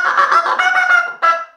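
A Greylag Hammer goose call, a hand-blown call that imitates a greylag goose, gives loud, close nasal honks: a sustained run, a brief break, then one final honk, with no other sound.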